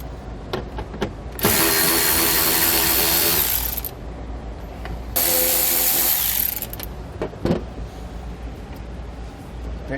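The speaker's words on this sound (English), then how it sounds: "Now we're going to take an 8mm socket. We're going to remove this bolt" An 8mm socket on a power driver spins out panel bolts during a trailer tail light converter install, two loud sustained whirring bursts of a few seconds each separated by scattered clicks and handling knocks.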